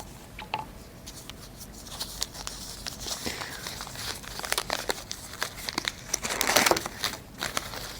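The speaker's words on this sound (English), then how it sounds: "This is the oil paper to wrap it up." Oil paper packaging crinkles and tears as it is unwrapped from a diesel injector valve assembly, with irregular close rustles and crackles that build to a dense crumple near the end.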